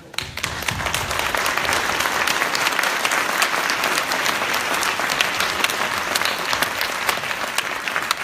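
An audience claps for veterans at a town hall meeting, a sustained burst of brisk, crowded applause from many people in a large room, steady from start to finish.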